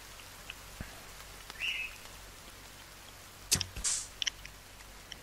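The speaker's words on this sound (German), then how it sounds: "Und es regnet." Steady rain patters down in The Forest survival game, a soft, even hiss that continues throughout, broken by a few brief louder rustles and clicks from the game.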